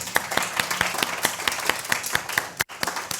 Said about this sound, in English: So I guess this is the time to give him a round of applause.